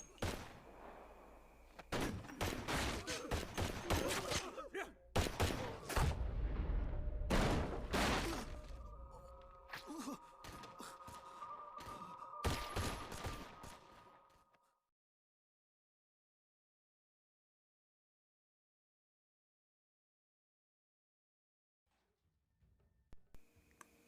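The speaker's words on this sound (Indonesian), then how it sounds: "Terjadilah aksi dar-der-dor yang akhirnya Bang Andi pun ikut tertembak" Film shootout with bursts of loud gunfire and sharp impacts crowding the first fifteen seconds, then near silence with a few faint sounds at the end.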